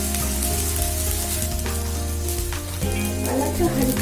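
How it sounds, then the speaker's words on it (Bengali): Ingredients for prawn malaikari fry in a pan until light brown, giving a close, continuous sizzle with a few crackles and a clink near the end. "এগুলো হালকা ব্রাউন হওয়া পর্যন্ত ভাজতে হবে।"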